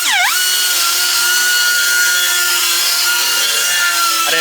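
Die grinder grinding on a metal brake part of a Jeep Cherokee during a rear disc brake install; a loud, continuous high-pitched whine that sweeps up at the start, holds steady, then dips near the end.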